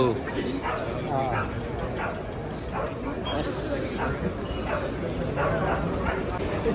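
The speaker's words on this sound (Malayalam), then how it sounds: "ഇത് ചൗ എന്നുള്ള ഡോഗ് കേട്ടോ" A Chow Chow dog barks and yips in short bursts at close range while people talk and footsteps shuffle in the background at a dog show.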